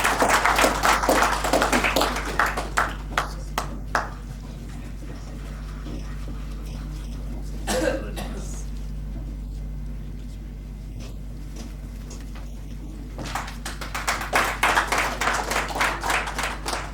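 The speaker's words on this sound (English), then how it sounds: "Huge round of applause." Audience applause for Mr. Rafiq of the Mapsa Muslim Federation at a Goa NGO meet-up, with a burst of clapping at the start fading to scattered claps, then a fresh swell of clapping near the end.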